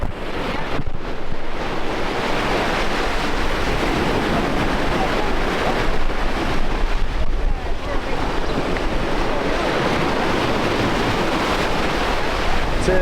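Ocean surf rolling onto a busy beach on Anna Maria Island, a steady loud wash of breaking waves with some wind buffeting the microphone and no talking.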